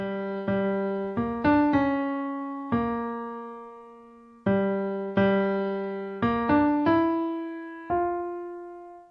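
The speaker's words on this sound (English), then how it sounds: "We got like a kind of a new theme for Jodna" A short melodic phrase of plucked or struck notes, played twice with a pause between, each note ringing and fading; no voices.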